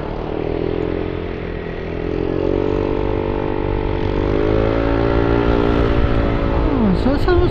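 A scooter-type motorcycle fitted with 11-gram flyball rollers and an aftermarket pipe revs up steadily close by, its pitch climbing as it accelerates over a continuous loud drone.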